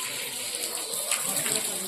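Water gushes steadily from a running motor pump during outdoor preparations, a continuous rushing spray that swells slightly toward the end.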